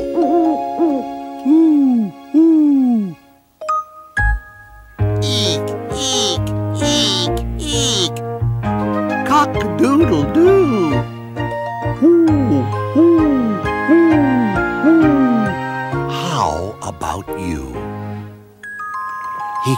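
A voice imitates an owl with a series of rising-and-falling hoots, repeated in short bursts, over a musical backing with bright chimes.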